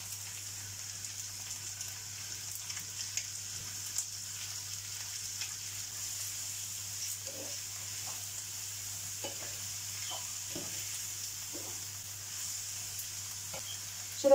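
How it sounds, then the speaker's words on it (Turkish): Minced meat and chopped onions fry in a pan for Bosnian mince börek, a soft steady sizzle running throughout with occasional stirring scrapes and clicks, quiet and close, with no talking. "Şimdi soğanımızla kıymamızı güzelce kavuralım."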